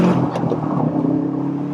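A Subaru Impreza STI with a forged engine accelerates in second gear, its flat-four drone holding steady and moderately close without a break, and no one speaks.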